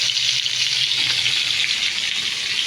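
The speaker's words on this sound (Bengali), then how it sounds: "আমরা মাছগুলো ভেজে নিচ্ছি।" Katla fish pieces frying in a pan, a continuous bright hiss and sizzle of hot oil, steady and close with no voices.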